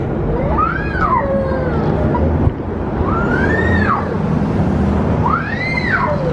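A toddler in a full meltdown after his dummy was taken away cries in three long, rising-then-falling wails spaced a couple of seconds apart, close and loud over a steady low rumble.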